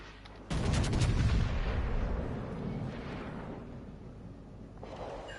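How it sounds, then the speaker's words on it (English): Heavy French 16-inch naval guns fire in World of Warships Legends: a loud, booming broadside blast with a long rumbling tail that slowly fades, followed by a faint second report near the end. "French 16-inch guns are no joke. Let's fire heat shoot."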